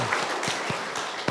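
Scattered, half-hearted clapping from a church congregation during a Sunday service: a few separate claps, fairly faint, spread over a soft background wash.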